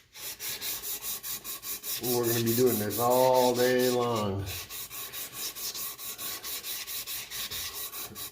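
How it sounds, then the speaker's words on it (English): Wet sanding an aluminum canister from a 1946 Coleman 530 G.I. Pocket Stove with 800-grit sandpaper gives steady, rhythmic rasping strokes, with someone talking over the middle stretch. "Then you just start sanding and sanding and sanding."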